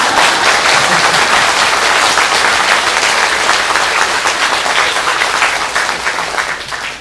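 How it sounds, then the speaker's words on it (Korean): A large seated audience at a Buddhist temple New Year's overnight meditation dharma talk breaks into loud, dense applause that runs steadily for several seconds before fading slightly at the end. "박수 쳐야지."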